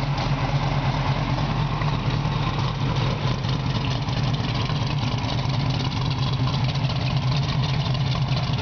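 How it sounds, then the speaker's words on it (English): A 1959 Corvette V8 with a mild cam, long tube headers and dual exhaust idles steadily, a loud, even low rumble with a regular loping pulse held close and alone throughout. "Touch the key, the car fires right up."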